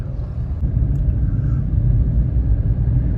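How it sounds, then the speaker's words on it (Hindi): A supercar's engine passes from behind in a deep, steady rumble that holds loud and close throughout, with no voices over it. "इसकी साउंड भाई मेरे को पीछे से ही पता लग गया था कोई सुपर कार आ रही है"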